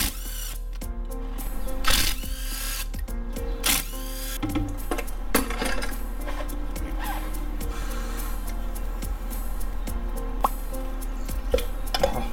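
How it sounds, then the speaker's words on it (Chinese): An RI1265 impact driver removes the four 10 mm cylinder head screws on a Kymco Quannon Naked 150 motorcycle engine. Close, steady mechanical whirring runs for several seconds, broken by sharp hammering bursts and clicks. "我拿这支，哦 ，RI1265 的冲击起子机。 对，然后去拆这个四颗螺丝哈"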